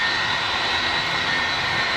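An Ilyushin Il-76 jet's engines roar close and loud, with a steady whining, droning tone that holds throughout and no voices.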